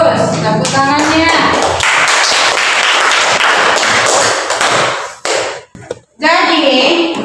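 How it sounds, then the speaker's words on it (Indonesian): A group claps hands steadily for several seconds in a classroom Quran recitation lesson, with a voice speaking before the applause and again as it fades. "Tepuk tangannya"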